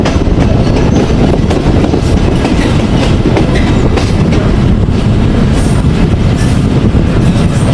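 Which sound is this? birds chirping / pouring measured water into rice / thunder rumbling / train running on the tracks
train running on the tracks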